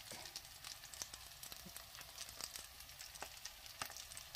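Sausages fry in a pan with rosemary and garlic, giving a quiet, continuous sizzle dotted with small irregular crackles and pops, with no speech.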